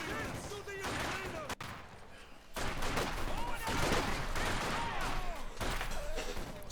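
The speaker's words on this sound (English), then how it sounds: "Sniper taking pot shots on the Volks, forces the retreat" Sniper rifle shots in Company of Heroes 2, a World War II strategy game, cracking out amid continuous battlefield gunfire and explosions, with several sharp reports standing out over a dense, loud combat din and some voices.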